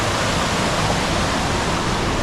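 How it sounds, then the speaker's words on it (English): Steady, dense roar of a waterfall in Solstice Canyon, Malibu, on a wildflower hike, a broadband rushing wash heard at constant level without any voices. "I can see in the distance we're approaching the waterfall"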